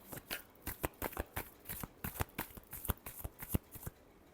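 Tarot cards being shuffled by hand, a quiet, steady run of rapid riffling snaps and flutters repeating in quick bursts, close and alone.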